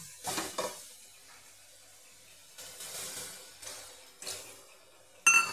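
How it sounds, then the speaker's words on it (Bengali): Spice masala for chickpea ghugni being sautéed in a pan, heard as faint sizzling broken by several short bursts of stirring and scraping with quiet gaps between. "মশলাটাকে আমি 4 মিনিট ভালো করে কষিয়ে নিয়েছি"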